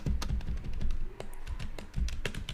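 Computer keyboard typing of a pip3 install command, quick irregular clusters of close key taps with short pauses between bursts, no talking.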